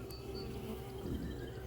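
Honey bee swarm buzzing as a steady, faint drone of many insects close by, continuous and low in level with no talk.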